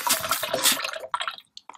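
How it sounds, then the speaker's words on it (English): Water sprayed into a toilet, a close splashing hiss that runs for about a second, then breaks off into a few short drips and spatters before going quiet. "you guys didn't want to see us spray water into the toilet"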